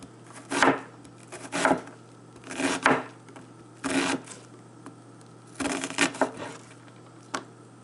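A dull knife slicing through food on a cutting board, about seven separate close cuts, each a crisp scrape and knock with short quiet gaps between.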